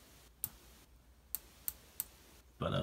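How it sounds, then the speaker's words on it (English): Crisp, sharp clicks from the turret of a Vortex Viper riflescope, four distinct close clicks spaced irregularly in a quiet room, followed by a brief louder rustle at the end. "But the Vortex is a more crisp click."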